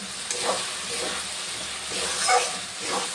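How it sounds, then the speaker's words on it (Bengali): Spices sizzle and fry steadily in a pan while being sautéed for doi chicken, with a constant close hiss and a couple of brief swells as the mixture is stirred, and no voices. "সমস্ত মশলা ভালোভাবে কষা হয়ে গেছে"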